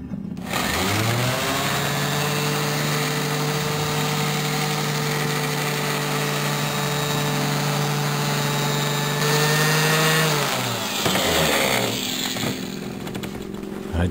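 A cheap random orbital sander works on motorcycle exhaust pipes, giving a steady, loud motor whine with rising tones that runs continuously for about ten seconds before slowing and stopping.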